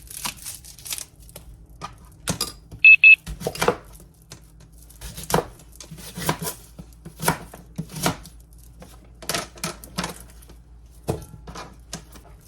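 A knife chops whole unpeeled onions and an unpeeled garlic bulb for homemade vegetable broth, giving sharp, irregular thuds on a cutting board, close and fairly loud, with brief pauses between bursts and no talking.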